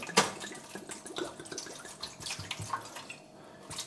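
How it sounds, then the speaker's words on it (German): Red wine is poured into a roasting pan for a pork roast with potatoes and mushrooms, a soft, quiet splashing and trickling of liquid with a few drips, steady throughout and without talk. "Jetzt kippe ich der Rotwein"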